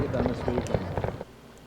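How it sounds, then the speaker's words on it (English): Fireworks go off over a lake at night as a burst of crackling pops and bangs, with talk mixed in, then the noise drops away. "we were at a lake with some friends watching fireworks"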